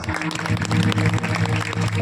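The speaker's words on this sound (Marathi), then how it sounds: "या मुलांकरता एकदा टाळ्या" Clapping from an audience at a kirtan during a week-long saptah, in honour of children from a Warkari music gurukul, with a dense steady patter over musical tones and harmonium-like drones.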